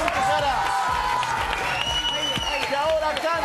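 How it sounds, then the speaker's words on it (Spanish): Studio audience applause on a Chilean TV variety show, steady dense clapping with some crowd voices and cheering mixed in, loud and continuous throughout. "Más fuerte el aplauso para Lucho Jara."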